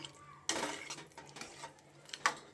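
Mixed vegetables being stirred in a cooking pot, with a spoon clanking and scraping against metal in several sharp bursts and a louder knock near the end, over a quiet background.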